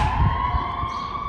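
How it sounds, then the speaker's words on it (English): Emergency vehicle sirens wail through Detroit city streets, a loud, close, sustained siren tone with low traffic rumble beneath and no talk. "It's the haunting sound heard almost every hour in Detroit, sirens wailing through city streets."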